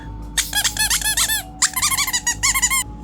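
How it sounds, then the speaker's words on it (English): Angry Birds plush squeaky toys being squeezed, giving a close, loud run of high rubbery squeaks in quick bursts with short pauses between them, and no talking. "They're squeaky toys. I wonder if they still work."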